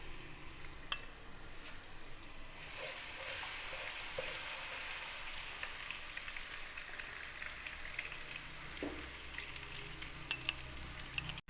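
Ginger garlic paste fries in a pan of oil or ghee, a steady close sizzle with soft crackles and occasional stirring scrapes throughout, no voices.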